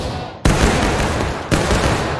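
Two loud, sharp musket volleys ring out in the War of Rights battle game, each a sudden massed crack that rolls off into a long reverberating roar, the second about a second after the first.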